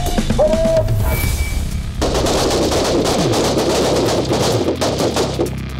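Gunfire during a shooting range drill, a dense, loud stream of overlapping shots from several firearms, rapid and continuous through most of the stretch.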